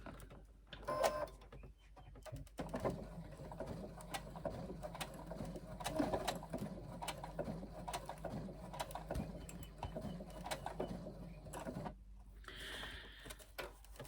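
A sewing machine stitches zipper tape onto a backpack, bursts of rapid mechanical clatter with brief pauses and clicks, close and moderately quiet, with no speech.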